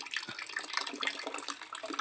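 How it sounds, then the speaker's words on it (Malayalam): Water flows through a pipe into a tank as a continuous hissing, splashing rush, steady and close throughout with no voices. "ടാങ്ക് മെല്ലെ നിറയുന്നുണ്ട് ഇതാ വെള്ളം വരുന്നുണ്ട്"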